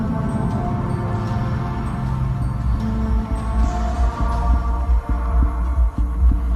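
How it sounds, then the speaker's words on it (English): Heavy heartbeat thumps pound at a steady rhythm as a sound effect in a scary scene, loud and close over a low droning hum, with no voices. "A new sound enters into the mix, like a heart pounding."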